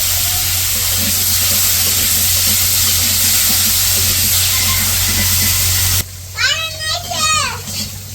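Potatoes fry in oil with a loud, dense, steady hiss. Near the end the sizzle drops away and a voice is heard.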